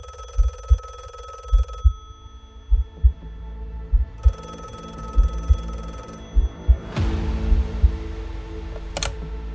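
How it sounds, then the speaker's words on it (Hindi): An old-style telephone rings in repeated bursts over a low, steady throbbing pulse, with a sharp metallic ring cutting through near the end. "पुलिस के फोन की घंटी बजी।"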